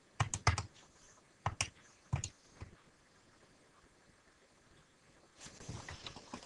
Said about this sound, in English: But we'll type it in our calculator just to be sure.